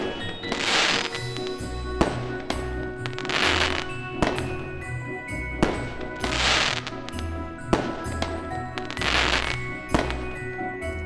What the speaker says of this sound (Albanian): plasin fishek zjarre, kapsolle